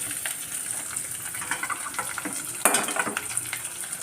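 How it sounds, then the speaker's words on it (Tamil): Onions sizzle and fry in a pan of hot oil, a steady crackling hiss with occasional stirring scrapes and a brief louder burst partway through. "இந்த இதில் வெங்காயம் போட்டுக்கிறோம்."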